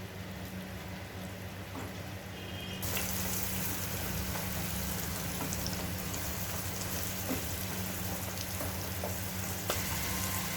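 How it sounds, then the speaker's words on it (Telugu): Egg and garlic fry in a pan over a low flame, giving a steady, dense sizzle that starts softer and swells to a fuller, continuous crackle after a few seconds, with no voices. "లో ఫ్లేమ్లోనే పెట్టి ఫ్రై చేయండి."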